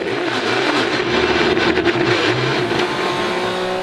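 Onboard race car engine during a Supercar Challenge GT race at Assen, a loud sustained drone with shifting pitch as the car accelerates and changes gear, heard close from inside the cockpit.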